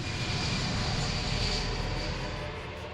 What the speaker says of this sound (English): a chartered passenger flight from Mombasa to Israel takes off carrying 200 holidaymakers